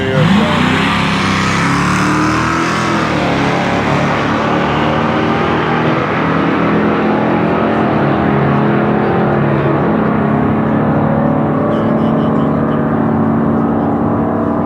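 Oldsmobile Cutlass S and Dodge Challenger muscle cars drag racing at Las Vegas Motor Speedway during the Hot Rod Power Tour, a loud, sustained engine roar with the pitch rising through the gears as the cars pull away down the strip.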